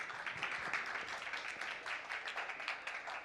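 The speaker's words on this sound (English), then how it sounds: "Huge round of applause." Audience applause fills a conference session on sustainable development goals and climate activism: a dense, steady wash of many hands clapping that holds at an even level throughout, with no breaks and no voices.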